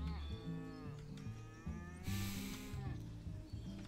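Cattle on a farm in the 2018 video game Pure Farming low repeated moos, several overlapping calls close and loud across the clip, with a brief hiss of ambient game noise in the middle.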